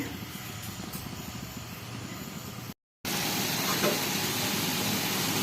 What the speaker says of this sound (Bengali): দেশি কই মাছ ভাজি করে নিচ্ছি